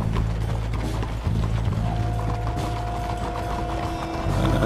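A horse's hooves clip-clop in a steady rhythm as it is ridden through a town in Red Dead Redemption 2, with game ambience and mechanical rattling around it.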